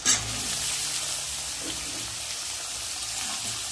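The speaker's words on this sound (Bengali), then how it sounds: "আলু তো এখানে ভাজছি, তার সাথে আমি একটু ইঁচড়গুলো ভেজে নেব।" Potatoes and boiled young jackfruit fry together in a pan with a steady, close sizzling hiss that holds evenly throughout, with no talk.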